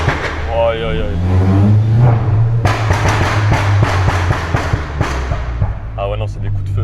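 Exhaust pops from a VW Golf 7 GTI: a rapid run of sharp, loud cracks and bangs over a low engine drone, with people talking and exclaiming throughout.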